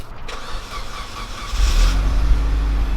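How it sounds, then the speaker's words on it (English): A Mitsubishi Evo cold-starts nearby: quiet ambient rumble, then at the halfway point the engine catches and settles into a loud, deep, steady idle that continues to the end. "let me get a cold start for the boys"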